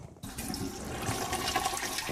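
A toilet flushes in one continuous rush of water, starting abruptly after a brief silence and holding steady and fairly loud to the end, with no voices.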